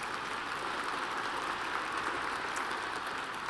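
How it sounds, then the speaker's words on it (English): Sustained applause from an award dinner audience fills the room evenly, a dense steady wash of many hands clapping with no voices over it. "Yes, another round of applause."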